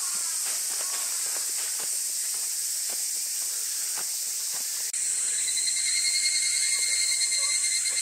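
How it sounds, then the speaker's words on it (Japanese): Cicadas drone steadily in a shaded forest along a mountain trail in summer, a dense high buzz that swells louder partway through, with light footsteps and rustling beneath. "蝉が本当によく鳴いています。"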